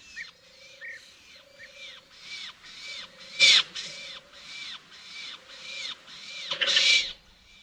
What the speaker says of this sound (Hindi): शायद यूरोप के सबसे रंगीन पक्षी के बच्चे खाने का इंतजार कर रहे हैं। ये है ब्लू रोलर।